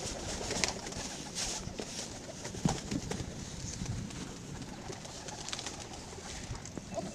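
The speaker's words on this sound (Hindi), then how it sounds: "अभी ये बच्चों वाले हैं कबूतर सारे।" A flock of pigeons coos continuously nearby at a mini zoo in Lahore, soft overlapping calls with a few flaps and rustles mixed in.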